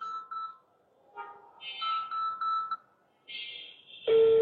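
An outgoing phone call rings while trying to reach a prize winner, with short electronic ring tones and beeps that repeat across a few seconds, ending in a louder burst as the line connects.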